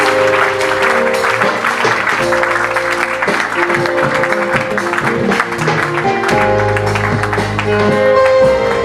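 A church congregation applauds and shouts acclamations in a loud, sustained wave of clapping and cheering, layered over steady music throughout.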